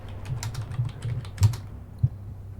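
Keys clack on a computer keyboard in short, close, uneven bursts of typing with a few louder taps, and no voice over it.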